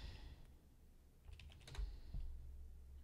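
Short burst of typing on a computer keyboard, a quick cluster of soft, close key taps in the middle of an otherwise quiet stretch.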